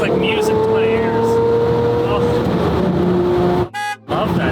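A Lamborghini with E-gear and an LP SV kit revs loudly and steadily close by, its engine note climbing, then cuts out for a split second near the end before roaring back.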